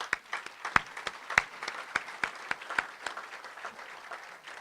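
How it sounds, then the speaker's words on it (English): Applause for a longtime Barnabas Group leader in Orange County: a moderate, sparse round of clapping with distinct sharp claps standing out over a softer wash of hands, steady for several seconds. "I think we owe Jim a big round of applause"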